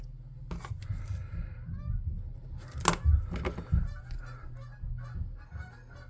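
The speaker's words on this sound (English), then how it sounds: "there are geese out front of my place for some reason" Geese honking outdoors near a river, several loud irregular honks clustered in the middle with quieter calls around them, close by and without speech.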